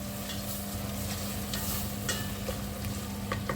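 Food sautéing in a pan with seasoning for Jamaican cooking, giving a steady close sizzle with occasional stirring scrapes and clicks throughout.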